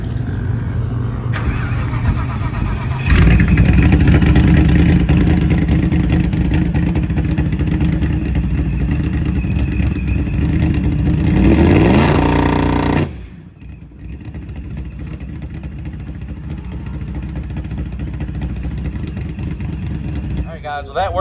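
A Procharged Comet drag car's EFI engine runs loud and close at a track, holding a steady roar and building in revs for about ten seconds, then cutting back sharply to a lower idle.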